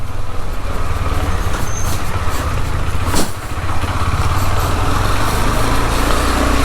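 A KTM 390 Adventure single-cylinder motorcycle runs with a loud, steady engine drone and wind rush, heard up close and continuous with no pauses.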